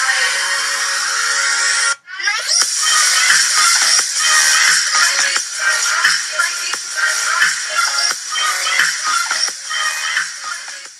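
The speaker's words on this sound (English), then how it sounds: "that's going to be the song that I want for my intro" Song used for a Blender sync intro: dense, bright electronic music with a rhythmic beat, loud and continuous apart from a brief dropout near the start, no talking.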